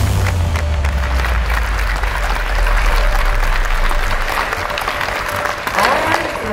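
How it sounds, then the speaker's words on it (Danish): A whole hall at a championship finals applauds and cheers, a dense sustained wash of clapping with crowd voices mixed in, loud and continuous throughout. "hele salen klapper og huer bare"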